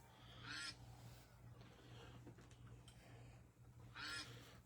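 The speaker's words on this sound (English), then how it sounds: "Surround sound with those ducks. Let them quack in your ear for a minute." Loud honking quacks from ducks, two bursts at the start and end, over quiet outdoor background noise.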